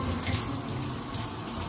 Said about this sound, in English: Shower time, relax time,